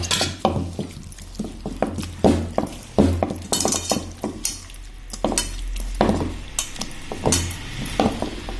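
Tamarind pulp is mixed by hand in a bowl, giving close, repeated wet squelches and sloshes in an irregular rhythm, with occasional clinks of the bowl and no speech.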